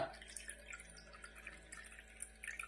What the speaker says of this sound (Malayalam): 1/2 പാത്രം വെള്ളം ഒഴിക്കട്ടോ.